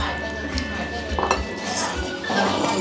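Glasses clink together in a toast at a small Japanese restaurant in Hangzhou. The brief chink rises above people chatting and the steady background hum of the dining room.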